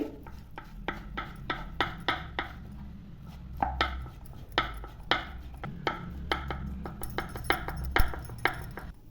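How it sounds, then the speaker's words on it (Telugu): Knife blade striking a cutting board in quick, steady chops while 50 grams of paneer is minced fine like keema. The close, crisp taps keep an even rhythm for about nine seconds, with no talking. "ఇప్పుడు ఇది ఒక 50 గ్రాముల పన్నీర్ అండి. దీన్ని కానీ మనం సన్నగా కీమాలా కట్ చేసుకోవాలి."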